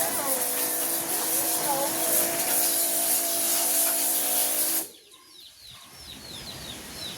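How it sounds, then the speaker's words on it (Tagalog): Chickens cluck nearby, first partly buried under a loud hissing spray for several seconds, then heard more clearly as brief chirpy calls once the spray stops. "ang manok"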